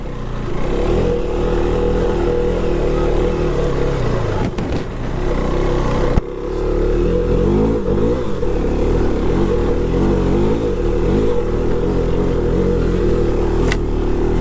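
A 2026 KTM 390 Adventure motorcycle engine climbs steep backcountry woods hills, its steady, loud drone pulling hard in low gear with a brief dip midway before resuming, close and continuous with no talk.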